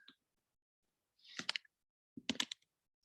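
Typing on a computer keyboard: two quick bursts of close, crisp key clicks separated by silence, quiet and isolated.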